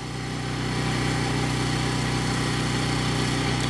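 A Kipor IG1000P inverter generator with a large muffler runs outdoors, giving a steady, even engine drone with a constant low hum that holds unchanged for several seconds.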